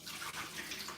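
Salted water is poured off plantains in a home kitchen, a brief, faint rush of splashing and trickling water.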